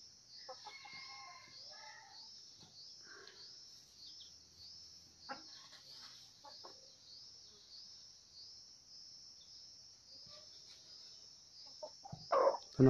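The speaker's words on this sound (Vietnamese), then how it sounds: "Đây chỉ là gà mồi thôi nhá." A small golden-feathered decoy rooster of about 800 to 900 grams crows faintly early on. Steady cricket chirring runs underneath, and a sudden loud clatter comes at the end.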